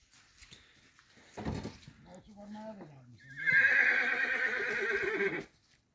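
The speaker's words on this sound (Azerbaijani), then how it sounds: "At mənim səsimi eşidib, elə bilir arpa gətirir. Sana kişnədi mənə." A horse whinnies loudly and at length near the listener. A few soft, voice-like sounds and brief noises come just before it, and the call ends abruptly.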